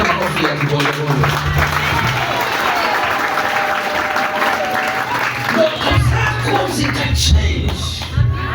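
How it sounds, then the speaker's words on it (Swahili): A church congregation claps hands during a sermon, producing sustained, dense applause that swells and continues throughout, mixed with voices. "Sasa unapiga makofi ya kibolebole."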